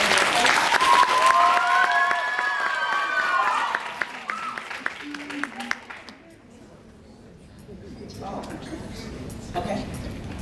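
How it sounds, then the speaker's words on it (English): Applause for the South Atlantic team at a Bible Bowl quiz competition, heavy at first, with voices and musical tones over it, then thinning into scattered claps and quieter room sound. "So let's have a round of applause for South Atlantic."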